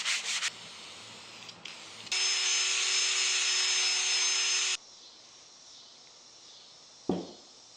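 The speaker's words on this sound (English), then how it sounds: "sanding between coats to get it nice and smooth." Sanding a spray-lacquered wooden football between coats, a steady rough abrasive rubbing, with short bursts near the start and a sustained loud stretch in the middle before it falls quiet, then one brief knock at the end.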